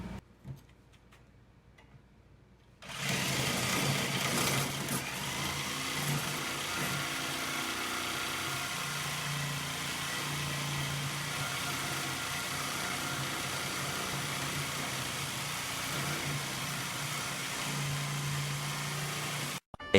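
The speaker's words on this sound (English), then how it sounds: "then I'm taking my jigsaw with the metal cutting blade, and I'm just going to cut it out." A jigsaw with a metal-cutting blade cuts through a mulch kit's metal after a quiet start, giving a loud, continuous buzzing drone with a slight rattle that runs steadily to the end and then cuts off.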